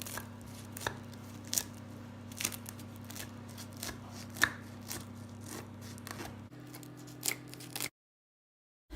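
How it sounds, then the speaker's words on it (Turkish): A knife cuts through crisp pan-made layered Turkish börek with a series of sharp crackling crunches at an uneven pace over a low steady hum, then silence. "Dilimlerken böreğimizin çıtır sesini de duyuyorsunuz."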